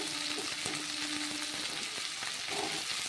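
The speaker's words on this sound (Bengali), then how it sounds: "এতেই আমি আলু দিয়ে দেব, একসাথে সব কিছু ভাজা ভাজা হয়ে যাবে" Chicken and potato pieces fry together in a pan with a steady, close crackling sizzle. Light clinks and scrapes of stirring break through now and then.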